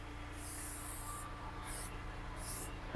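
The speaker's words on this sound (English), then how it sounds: "we're just going to do a very generous coating of vegetable spray" Three short hissing bursts from a vegetable oil spray can coating the inside of a 250-gallon metal smoker, separated by brief pauses, close and fairly quiet over a low background hum.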